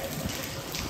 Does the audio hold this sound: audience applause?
no